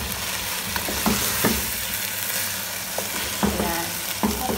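Food sizzles and fries in a pan while being stirred, with a continuous hiss and repeated scraping, clinking strokes of a utensil at an irregular rhythm, close and fairly loud.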